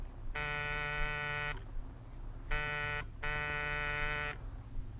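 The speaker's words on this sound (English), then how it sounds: "Buzz the buzzer." A harsh electric door buzzer sounds three times: one long buzz, a pause, then two more buzzes in quick succession.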